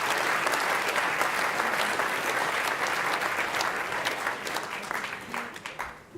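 Sustained applause from a gala dinner audience for the small business finalists at an ethnic business awards night. The dense, loud clapping rolls on steadily, then thins slightly near the end.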